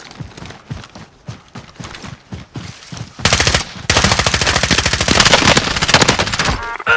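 In Call of Duty Modern Warfare, a few soft footstep-like thuds come first, then a loud, sustained burst of rapid automatic gunfire opens up at an airship and keeps rattling steadily to the end, with no talking.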